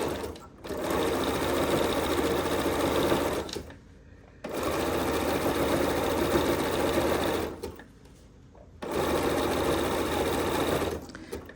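Sewing machine with a #43 couching foot back tacking fabric, three loud, fast, steady runs of needle stitching separated by brief pauses.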